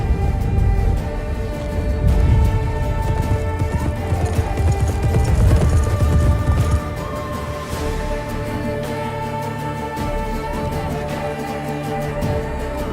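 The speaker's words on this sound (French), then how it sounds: "Oh, il est beau cheval." Horse hooves clip-clop in The Witcher 3, a rapid loud rhythmic patter over game music that thins after the midpoint into lighter, steadier hoofbeats.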